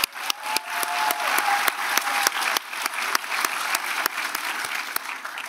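A crowd at a nursing graduate school ceremony applauds steadily, with sharp individual claps standing out over a continuous wash of clapping that keeps an even level throughout.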